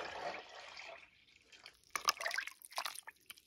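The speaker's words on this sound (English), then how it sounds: "And we dump the water in there again." Cold water poured over freshly made goat milk butter in an off-grid Alaska homestead kitchen, a brief splashing trickle and drips following a quieter hiss, close and moderately loud.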